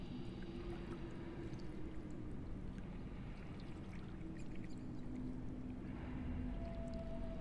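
River water flows steadily through a Neverwinter Nights 2 cutscene, a low continuous rushing wash that stays fairly quiet and even throughout, with no voices.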